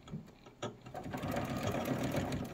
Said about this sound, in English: So I always like to start about a 1/2-inch into my quilt, drop my needle, and do a back stitch.